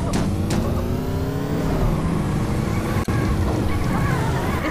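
A car engine revving in the Payback 2 game, a steady loud drone that climbs and falls in pitch through the gears, with one brief dropout near the end.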